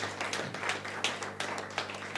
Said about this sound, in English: we want to give a round of applause to all of the